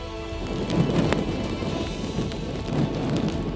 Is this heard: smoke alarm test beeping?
no